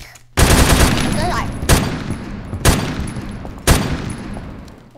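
A Roblox shotgun fires like a machine gun, with loud bursts of rapid shots that each start sharply and fade over about a second. The bursts repeat roughly four times while a voice talks over them.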